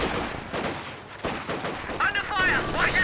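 Gunfire from a Company of Heroes 2 match, with grenadiers and a machine gun team under fire, comes as repeated sharp bursts over a dense battle din, and whistling, warbling effects rise near the end.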